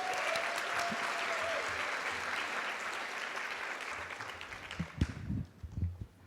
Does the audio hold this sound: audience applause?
yes